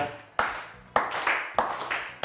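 A brief consolation applause cue in the studio of the Turkish word game show Kelime Oyunu: three loud bursts of clapping, each starting sharply and fading, spaced about half a second apart, with no talk over them.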